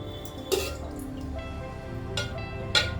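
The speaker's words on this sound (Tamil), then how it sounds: "பச்சை தண்ணி சூடாக இல்லாத பச்சை தண்ணி ஊற்றி இப்படி 3 தவணை கழுவி எடுத்துக்கணும்" Cooked ada rice flakes for Kerala ada pradhaman payasam are rinsed in cold water, with a few sparse splashes and drips standing out against a quiet kitchen background.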